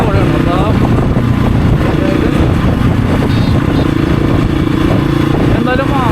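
Hero Xpulse 200 motorcycle fitted with a Motowings aftermarket exhaust, running with a steady, loud, rumbling engine note throughout, with a voice talking over it.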